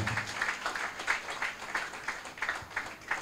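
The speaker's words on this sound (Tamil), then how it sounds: "நல்லா கைத்தட்டுங்க அவங்களுக்காக" A church congregation at a dedication service for the church's anniversary claps for the builders, giving steady, moderately loud applause with a loose rhythmic pulse and no talking over it.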